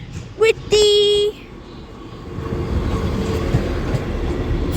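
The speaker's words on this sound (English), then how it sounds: "Now departing, catching me out surprise, is going to be a Northern 150, 126, heading to Chester via Altrincham" A Northern Class 150 diesel train departs Manchester Piccadilly station, opening with two loud horn blasts, then a low, steadily building rumble of engine and wheels as it pulls away.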